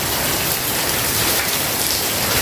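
Heavy rain pours steadily during an early-summer unseasonal storm with strong wind, a dense, continuous hiss that stays loud and even throughout, with no voices.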